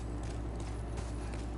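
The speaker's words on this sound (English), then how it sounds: "Oh no, it's a horse." Horse hooves clip-clop steadily in a dark fantasy action game, under a dense, constant wash of game sound.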